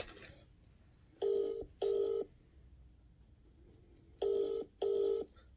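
Four phone keypad dialing tones on speakerphone beep in two pairs, each a short steady buzz-like tone with pauses between, over a faint background hum.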